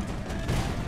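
Musket fire in the Imperial Splendour game, a dense rolling volley of many overlapping shots forming a continuous rumble, loud and steady throughout the brief moment.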